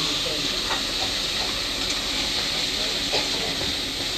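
Mushrooms dropped into spice masala frying in a pan give a steady, loud hiss and sizzle with a few brief crackles, and no voices are heard.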